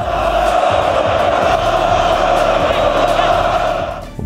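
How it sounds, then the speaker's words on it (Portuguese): A large football crowd at a Barcelona match chants and roars toward Dembélé, a dense, loud wall of voices that holds steady throughout and fades slightly at the end. "A torcida começou a entonar cantos de tonto para o seu amor não correspondido."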